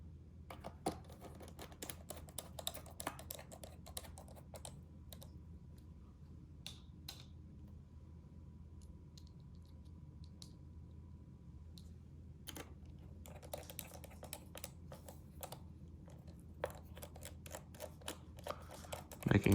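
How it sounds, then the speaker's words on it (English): Screws going back into the bottom case of a MacBook Air or MacBook Pro (2013–2017), with faint, close, irregular little clicks and ticks over a low hum, and no talk. "start placing your screws back in"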